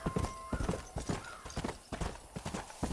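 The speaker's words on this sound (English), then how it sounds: "No, that's donkey." Donkey hooves clip-clop in the Red Dead Redemption video game on PS3, a steady run of close, crisp hoofbeats alongside game sounds with a short tonal chime early on.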